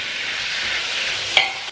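Sliced onion sautés in a pan with turmeric, coriander powder and chicken masala for a chicken curry, a steady close sizzle with one brief utensil scrape near the end.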